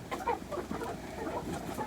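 Hens and chicks cluck and peep steadily at moderate distance, a busy overlapping chatter with no voices.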